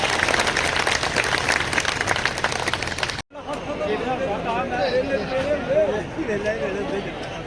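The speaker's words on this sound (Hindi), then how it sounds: "जोरदार तालियों से उनका स्वागत किया जाए" Loud applause and crowd cheering greet Rajnath Singh at a public rally at Ramlila Maidan, a dense, continuous roar of clapping and voices that briefly cuts out, then resumes with talk and chatter over the crowd.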